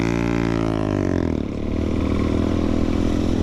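A Honda Grom motorcycle's loud aftermarket exhaust drones close by, pitch sliding down as it eases off, then settling into a steady throaty idle.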